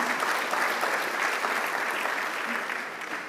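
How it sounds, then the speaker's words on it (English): Audience applause at a vitamins and minerals industry annual conference, dense steady clapping from a large crowd, fairly distant, slowly tapering off. "Round of applause."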